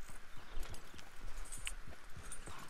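Horse hooves clopping at a steady walking rhythm while riding in Red Dead Redemption 2, close and moderately quiet, with no talking.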